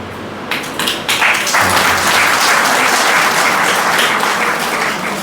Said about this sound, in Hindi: आपकी तालियां आपको खुश नहीं करती, मुझे भी खुश करती है